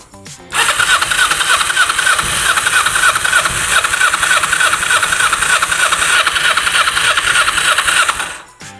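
A 22-year-old Kawasaki Ninja 250 motorcycle with 52 miles cranks loudly and steadily up close for several seconds with its carburetors freshly fueled, but never catches, then cuts off.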